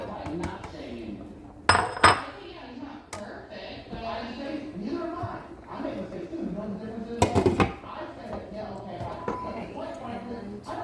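A lid goes onto a pot of Cajun shrimp sausage pasta with two clusters of metallic clinks, heard beneath ongoing conversation.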